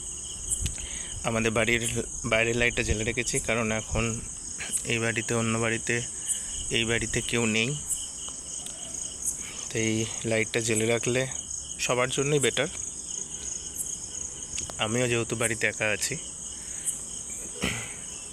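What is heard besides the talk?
crickets chirping at night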